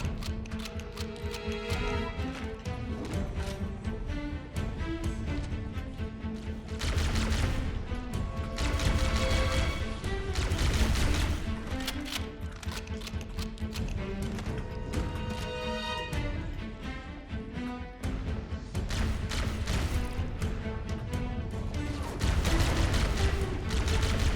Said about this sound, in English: This is a plasma rifle.